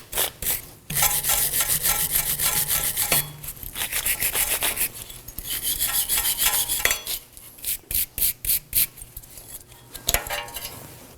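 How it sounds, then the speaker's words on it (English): A wire brush scrubs the brake surfaces of a 2014-2020 Acura MDX's rear parking brake during a shoe replacement, giving harsh, close raspy strokes, first long and steady, then short rhythmic bursts with a faint metallic clink. "wire brush just to get the surfaces clean as well."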